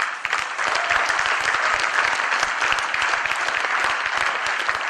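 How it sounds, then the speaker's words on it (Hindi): An audience at a Modicare business training session claps continuously, a dense, steady wash of many hands close and loud throughout, with no voices standing out. "जब आप ताली बजा रहे हो"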